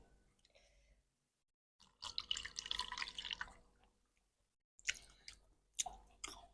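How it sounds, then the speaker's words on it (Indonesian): Food is washed with drinking water in a village kitchen, with close bursts of splashing, sloshing and dripping separated by quiet pauses. "Pakai air minum aja cuci."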